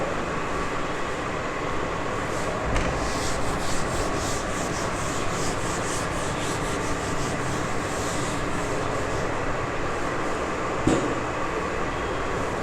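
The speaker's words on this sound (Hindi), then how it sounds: "फिर मैं मिटा दूंगा इसको। Yes, I will rub it of." Writing being rubbed off a classroom board, a continuous scratchy swishing of steady back-and-forth strokes close by, with a couple of sharper knocks, no talking.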